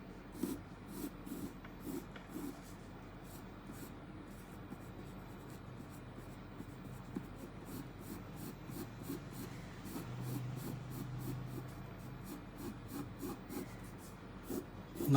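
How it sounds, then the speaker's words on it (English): A click pencil makes drawing strokes on paper, quiet scratchy strokes repeating in a steady rhythm close to the microphone with faint breathing between them. "strokes with this click pencil."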